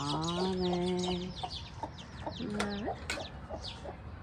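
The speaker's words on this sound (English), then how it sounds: "Those are local chicken." Local chickens on a mixed farm in Dubai cluck and call close by, with a rooster-like drawn-out vocal at the start and scattered sharp clucks throughout, no talking.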